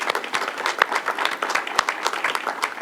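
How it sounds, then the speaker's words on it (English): An audience claps steadily in applause for the governor at a university ribbon-cutting ceremony, with dense, sustained clapping and a few sharper individual claps standing out, no talking over it. "So big round of applause for the governor,"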